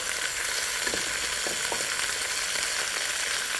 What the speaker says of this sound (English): We're going to saute all these vegetables together